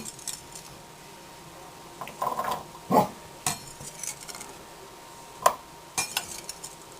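Finely chopped vegetables, made while cooking restaurant-style cashew chicken, are scraped into a bowl with a few sharp clinks and light knocks of utensil on dish, close and isolated against a quiet kitchen background.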